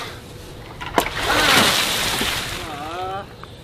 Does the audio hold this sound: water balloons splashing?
yes